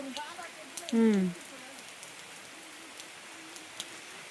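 Soft steady rain patter across the whole stretch, with a brief burst of nearby voice or animal call early on, then rainfall alone.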